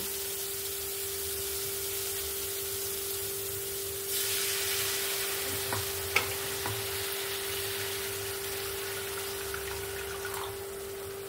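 Steady frying sizzle of spice paste cooked in oil, then a burst of louder hissing as water is poured into the hot pan around the four-second mark. A few clinks follow, and the sizzle continues close and even with no talking.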